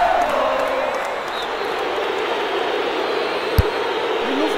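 A stadium crowd in the football game Winning Eleven 6 roars in a steady, dense wash of cheering, with one brief sharp thump near the end.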